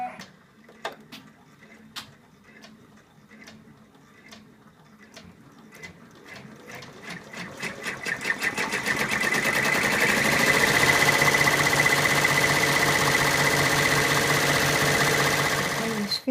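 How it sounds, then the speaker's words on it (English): An embroidery machine stitches the final color, the outline of an in-the-hoop elephant's legs and arms: spaced mechanical clicks speed up into a loud, continuous rapid chatter of needle strokes that holds steady to the end. "We're now going to stitch out the last color, and it'll stitch the outline of the legs and the arms"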